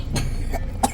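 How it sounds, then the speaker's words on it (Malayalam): A few short, faint coughs from a child, three quick bursts spaced apart against a low background rumble. "ചുമയുണ്ട്"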